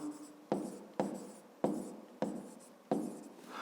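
Pen scratches on paper as a fifth-grade math answer is jotted down: five quick strokes in a regular rhythm, each with a sharp start and short scratchy tail, close and quiet with no voices.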